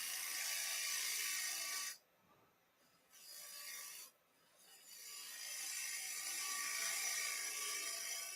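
Wood cut on a lathe while turning, with a loud, close, continuous rasping and scraping broken by two short pauses as the tool lifts off, then resuming steadily; no talking.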